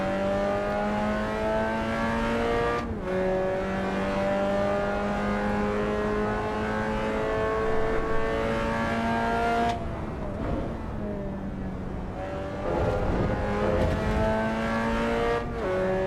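Mazda MX-5 Cup race car driven hard in Assetto Corsa EVO, its engine note climbing steadily through the revs with sharp drops at gear changes, then pulling up again, loud and continuous with no talking.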